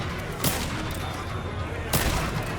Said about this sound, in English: Holding the gunshot, blowing it right in his face.